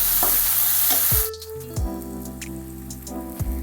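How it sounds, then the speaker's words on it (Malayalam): Tomatoes and cashews sauté in a pan for paneer butter masala, giving a steady close sizzle that drops away after a moment, leaving quieter crackling, a low hum and occasional stirring knocks. "എന്നിട്ട് ഇത് നല്ലപോലെ സോഫ്റ്റ് ആവുന്ന വരെ നല്ലപോലെ വഴറ്റി കൊടുക്കാം"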